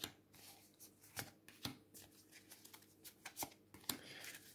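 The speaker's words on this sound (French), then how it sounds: "je vais remélanger à chaque fois" Tarot cards are shuffled by hand in soft, irregular riffles and slaps, close up and quiet, with no voice.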